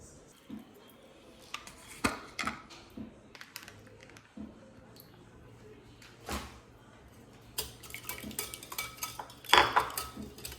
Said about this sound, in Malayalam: ഈ മുട്ട ബീറ്റ് ചെയ്യുമ്പോൾ